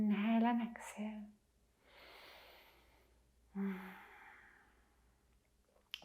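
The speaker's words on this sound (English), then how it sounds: "Inhale and exhale." Slow deep breaths during a restorative yoga session: a long audible exhale, then a quieter steady stretch of breath, then another deep breath in and out, close and soft, with no talking.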